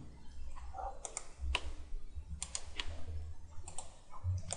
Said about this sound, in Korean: 컨트롤 키 눌러서